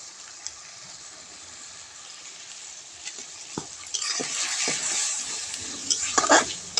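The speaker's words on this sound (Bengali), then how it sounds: "সব কিছু দিয়ে মশলাটা ভালো করে আমি কষিয়ে নেব" Ground spices sizzle and are stirred in hot oil for a chicken curry, a steady hiss that grows louder midway with scraping strokes and brief clatters near the end.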